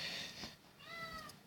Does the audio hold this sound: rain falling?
no